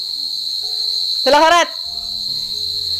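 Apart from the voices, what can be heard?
crickets chirping at night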